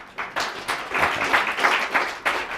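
Scattered applause from a small audience at an evening networking talk, a handful of people clapping unevenly for a couple of seconds, moderately loud and close, with no voices over it.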